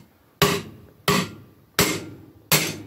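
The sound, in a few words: hammer seating an axle carrier, pitch changes when bottomed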